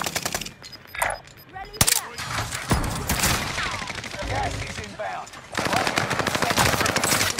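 Video game gunfire in Call of Duty: Warzone Pacific, with rapid automatic bursts and single shots crackling throughout while players talk over the action.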